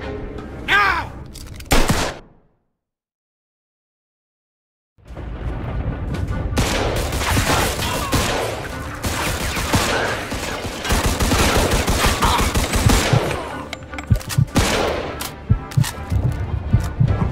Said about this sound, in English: Let's shoot this cocksucker.